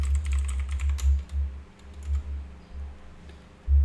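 Keys clatter on a computer keyboard in quick bursts of taps with short pauses between them, close and clear, with no talking.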